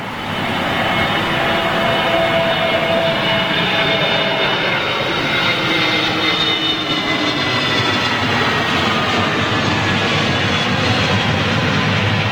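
An Airbus A320neo jet airliner at Los Angeles International Airport gives off a loud, sustained engine roar with a slowly falling whine as it passes, filling the whole stretch without talk.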